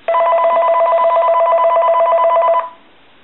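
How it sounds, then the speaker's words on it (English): A dragon-shaped speakerphone telephone rings with one loud, continuous electronic trill for about two and a half seconds, close and alone, then cuts off abruptly. "Let's go ahead and ring the telephone."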